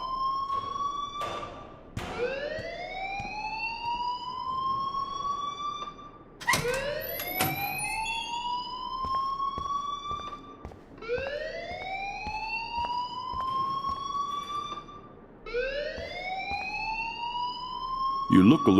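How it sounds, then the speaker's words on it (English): School fire alarm in the video game Life Is Strange wails in repeated rising sweeps, each cycle lasting a few seconds, loud and continuous with brief sharp clatters between cycles. "please turn off that alarm since that's your job"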